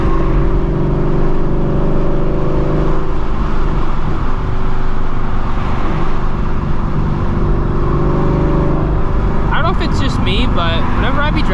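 A Shelby GT350 cruises in traffic with a continuous low engine rumble and road noise, a voice talking over it throughout, and a brief higher engine rise near the end.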